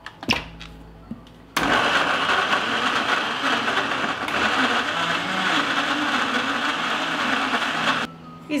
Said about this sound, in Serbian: Očišćene breskve samleću u blenderu.